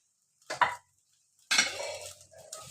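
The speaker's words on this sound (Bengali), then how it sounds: "ম্যারিনেট করে রাখা চিকেনটা আমি এর মধ্যে দিয়ে দিলাম" Marinated chicken is added to a pan of softened tomatoes, giving two brief metallic clatters of utensil against pan followed by a soft sizzle, close by and with no talking.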